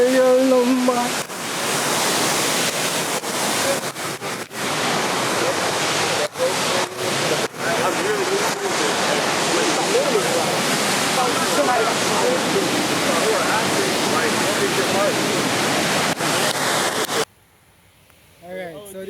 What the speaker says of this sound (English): so there's the river, the falls